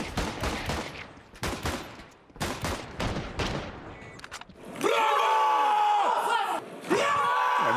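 Rapid pistol fire from dual Berettas in a Counter-Strike (CSGO) match at the BLAST Paris Major 2023, heard as a string of sharp, close shots in uneven bursts, followed by a denser, sustained stretch of game sound and crowd noise.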